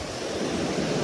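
Floodwater surges against a wall in the Kullu-Manali area during a disaster, making a dense, steady rush and roar of crashing waves. The sound is loud and constant, with no voices over it.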